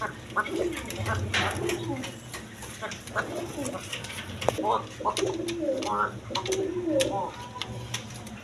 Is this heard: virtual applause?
no